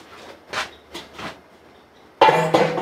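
Measured sugar poured into a pot of water heating for a moonshine mash, a sudden loud, close, gritty rush that runs to the end after a few softer knocks and rustles.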